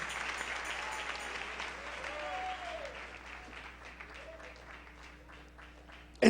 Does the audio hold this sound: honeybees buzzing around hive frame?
no